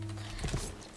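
Horse hooves clip-clop in the Star Stable video game, a faint, quick patter of a few soft hoof steps over a low steady hum.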